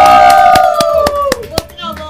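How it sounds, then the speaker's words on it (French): A few sharp hand claps land roughly evenly through two seconds, set against a steady sustained voice-like tone, as a television studio audience applauds the technical director during a Mother's Day special. "on l'applaudit"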